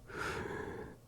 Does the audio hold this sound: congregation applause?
no